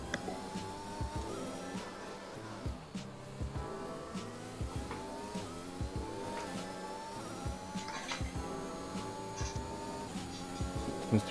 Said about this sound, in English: Seems to be a Ferrari trying to get past me now.